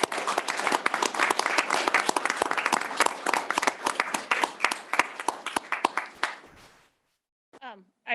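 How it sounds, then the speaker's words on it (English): An audience at a school district board of education meeting bursts into sustained applause, many hands clapping densely and steadily for several seconds before it stops abruptly, followed by a brief voice. "let's give them a round of applause as well"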